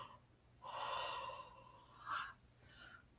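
A person yawns with a long, breathy, voiced exhale, followed by a shorter sigh-like breath and a faint trailing breath, close and fairly quiet with no speech.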